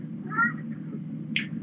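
A grouchy house cat gives one short, displeased meow at close range over a steady low hum, followed a moment later by a brief sharp click.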